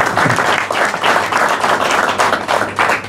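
Crowd applause at a regional rally event in La Tordilla, steady dense clapping lasting the whole stretch at moderate loudness, with a faint low hum underneath.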